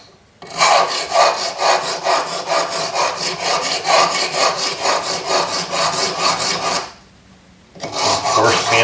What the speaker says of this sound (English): Actually, I'm going to sand it a bit right now.